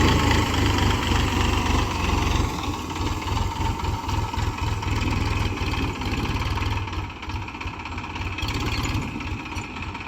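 A tractor engine runs steadily in a field of dry earth clods, a loud, close diesel chug with a continuous low pulsing rhythm and no voices.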